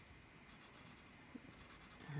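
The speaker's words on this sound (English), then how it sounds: "And I like to write up above." A pen or marker writes above a fraction diagram, making soft repeated scratchy strokes in short bursts with brief pauses, faint and close.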